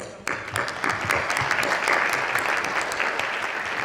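An audience at an awards luncheon in Fort Worth breaks into steady applause that starts suddenly and keeps going, a dense wash of many hands clapping.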